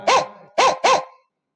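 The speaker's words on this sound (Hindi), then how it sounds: "कुत्ते भौंक रहे हैं" Three sharp, loud dog barks at night, the first standing alone and the last two following close together, then silence.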